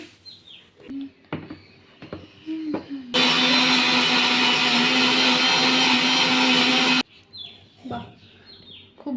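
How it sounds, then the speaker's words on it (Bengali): A kitchen mixer grinder blends ginger, garlic, green chilli, cumin, onion and tomato into a paste. It runs as one loud, steady whirring burst for about four seconds, with bird chirps and small kitchen sounds before and after. "চলো এই তোমাদের নতুন মিক্সি এখানে"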